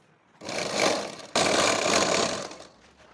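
A sewing machine runs in two close bursts, stitching a fabric seam folded inward, with a brief break near the middle and no voices.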